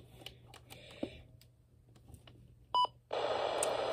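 Programming tones for a Midland NOAA weather radio, a few soft clicks and tapping sounds followed by a short beep, then a loud continuous data tone that begins abruptly and keeps going.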